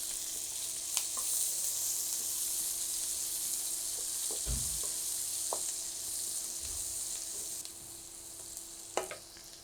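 One cup of onions sizzles steadily in hot oil in a pan while cooking chicken fricassee, a constant bright hiss with a few soft clinks and stirring knocks, no voices.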